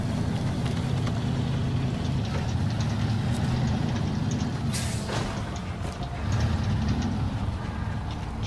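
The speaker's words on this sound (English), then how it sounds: "Shut that engine off for a second." A heavy truck engine, a Fleetstar in SnowRunner, idles with a steady low throbbing rumble and rattle, loud and close, with a brief hissing burst partway through and no talking.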